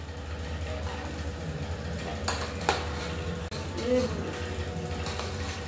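A spatula stirs curry in a cooking pot, giving a few scraping clinks against the metal over a steady low kitchen hum, with a soft sizzle underneath.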